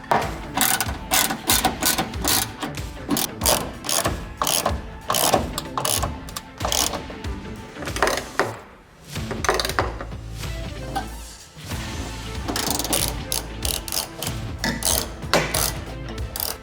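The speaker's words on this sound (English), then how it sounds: "now we're using a 12mm socket, 12mm wrench on the top to hold it in place" A socket ratchet with a 12mm socket clicks rapidly on ladder rack bolts of a Ford Transit Connect, loud and close in repeated bursts of fast pawl ticks with a short pause midway.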